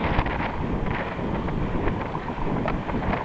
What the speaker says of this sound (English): Southeasterly wind.